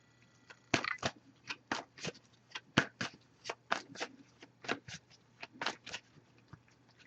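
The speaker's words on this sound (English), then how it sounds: "I pre-shuffled this deck as well, but I'll give it a few more shuffles" Close, crisp tarot card shuffling in a quick series of riffles and taps, repeated steadily for several seconds without speech.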